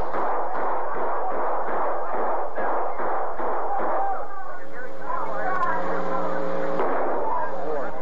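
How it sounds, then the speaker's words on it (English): A flash grenade detonates and gunfire erupts during a 1991 Sacramento police hostage standoff at a store: a rapid series of sharp bangs at the start, followed by a sustained ringing tone and chaotic noise, heard through a narrated documentary soundtrack. "A police sniper fires, but misses the hooded gunman. A flash grenade explodes and a hostage escapes."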